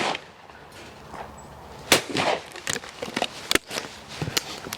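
A Blaser F16 shotgun loaded with Express 24-gram cartridges fires at a clay target outdoors, giving a couple of sharp, loud bangs among quieter clicks and background shooting-ground noise.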